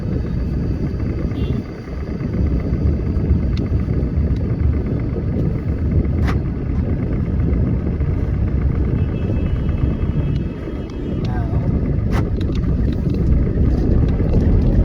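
A car driven on the road after repair, with a steady loud low rumble of engine and road noise plus wind buffeting that runs continuously, dipping briefly twice, with no talking.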